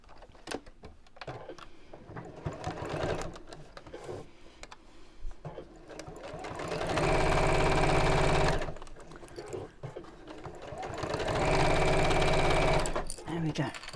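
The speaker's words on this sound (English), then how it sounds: "we'll sew across the top close to the edge just to hold that in place" Sewing machine stitching across the top edge of a purse close to the edge, two loud steady runs of about two seconds each, separated by a pause, with someone talking before and between.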